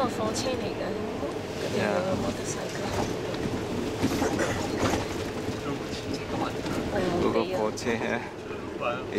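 An old, slow train rumbles across a bridge in Hanoi with steady rattling and clanking from the cars, while people talk nearby over the continuous noise.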